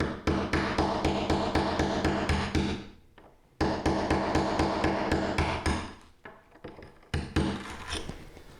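A hammer drives a chisel into a cracked ceramic floor tile in bursts of rapid, sharp, close metallic strikes, pausing briefly twice before resuming with fewer, scattered blows.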